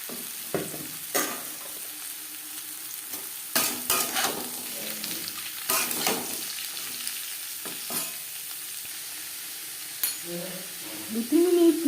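Grated beetroot and carrot frying in hot oil, a steady sizzle with intermittent spatula scrapes and clatters against the pan; a brief voice surfaces near the end.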